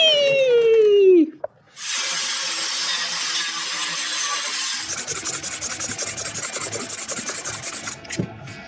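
Wood being hand-sanded for a homemade spray booth finishing station, a steady close rasping rub that carries on for several seconds after a short whoosh, with rhythmic strokes toward the end.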